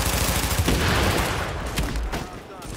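Dense, continuous gunfire from the video game The Division fills the whole stretch, a loud layered fusillade of rapid shots and bursts with no pause.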